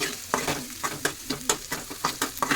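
Onion sautés in oil in a pan for a Malvani-style fish curry, a close sizzle broken by quick, rhythmic scraping strokes of a spoon stirring, with no voices.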